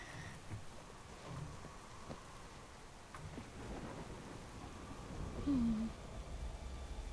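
A thunderstorm in the King's Quest video game brings steady rain hissing throughout, with low rolling rumbles of thunder that swell louder near the end.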